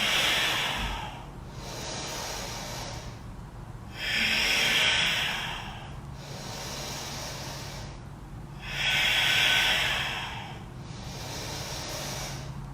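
Slow, deep yoga breaths during a plank hold in a hot power yoga session: long airy inhales and exhales, close and steady, alternating in a calm rhythm without speech.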